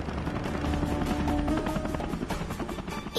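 A cartoon magic helicopter in flight, heard as a loud, dense rotor chop with rapid rhythmic beats and mechanical whirring filling the whole short stretch, without talk.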